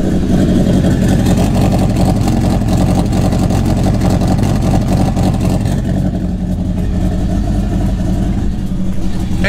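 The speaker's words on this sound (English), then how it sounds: "we have a beastly exhaust on the Evo" A modified 1000 hp Mitsubishi Evo X with an aggressive aftermarket exhaust rumbles loud and close, its deep engine note swelling through revs and idling without pause while a voice talks faintly over it.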